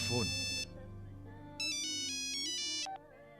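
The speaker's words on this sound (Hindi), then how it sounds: "साहब, आपका फोन।" An electronic phone ringtone sounds in a Hindi action movie scene: short bright melodic phrases repeat with brief gaps over a low background.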